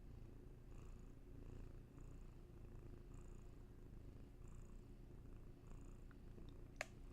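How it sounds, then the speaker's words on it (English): Cat Hattie purrs very faintly in a quiet room, a steady low rumble with a regular in-and-out breathing rhythm and a tiny click near the end. "Hattie has some purrs for you"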